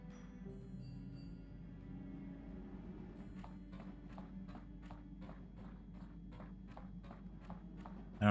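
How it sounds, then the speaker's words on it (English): Echoing footsteps in Star Wars: Knights of the Old Republic, a steady run of about a dozen evenly spaced, faint steps with a reverberant tail over a low ambient hum, without talk. "You hear the echo of footsteps coming from the direction of the cargo hold"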